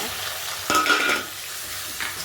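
Onion, tomato and chilies fry in hot oil with a steady sizzle while a spoon stirs and scrapes the pan in a short burst near the middle.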